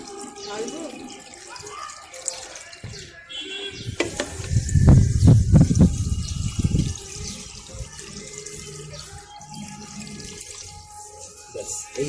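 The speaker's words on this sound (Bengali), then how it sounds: "আলতো করে আপনারা জল দিয়ে দেবেন" Water poured gently from a vessel onto a potted lotus plant, a soft splashing burst lasting a few seconds, close by, with faint background noise before and after.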